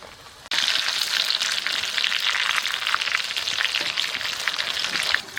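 Pakoras crackling and sizzling in hot oil, cooked in a village kitchen for the Jitiya fast; a dense, steady frying hiss that starts abruptly and carries on close and alone, without speech.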